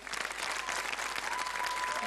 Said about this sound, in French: Applaudissez-moi encore, voir.